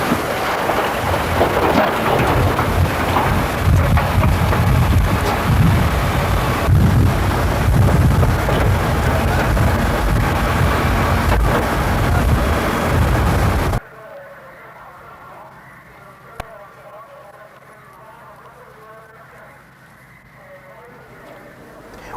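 Explosion during a fire at the Copra refrigeration plant, involving an ammonia compressor: a loud, sustained broadband roar and rumble lasting about fourteen seconds, then an abrupt cut to a quiet background with one brief pop.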